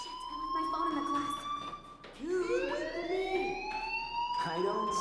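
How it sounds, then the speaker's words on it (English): A school fire alarm from the video game Life Is Strange rings out as a steady high electronic tone, then sweeps upward, with a voice talking over part of it. "do you hear that fire alarm?"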